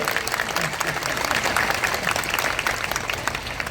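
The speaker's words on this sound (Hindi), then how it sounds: "अरे तालियां तो बचाओ बच्चे के लिए।" Audience applause fills a ceremony hall during the inauguration of a community gathering, a steady, dense wash of many hands clapping at constant loudness throughout.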